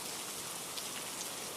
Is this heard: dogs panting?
no